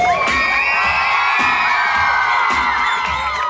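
At a dance competition in Bydgoszcz, a crowd cheers and whoops loudly for dancers, high shrill shouts and screams layered over a continuous roar, intense and unbroken.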